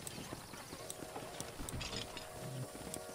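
Horse hooves clip-clopping at a steady walk in the Red Dead Redemption video game, with a faint background hum of game ambience and no talk over it.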